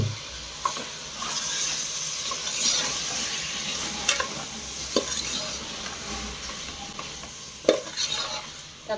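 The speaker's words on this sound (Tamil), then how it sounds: "தக்காளி நல்லா வதங்கட்டும்." Chopped tomatoes sautéing in a pan for chicken biryani, with a steady close sizzle and occasional scrapes and knocks as a spoon stirs the mixture, with no talking.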